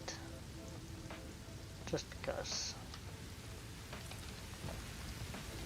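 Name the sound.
pouring rain in the video game Satisfactory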